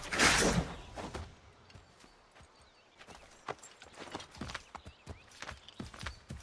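Horse hooves clip-clop in the Assassin's Creed 3 game as Connor acquires a horse, a burst of loud noise opening the clip before a run of soft, irregular hoof taps continues at moderate distance.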